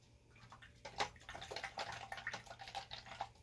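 An item is rinsed in water, with soft splashing and dripping that swell after a quiet start and keep going in uneven bursts, faint and close.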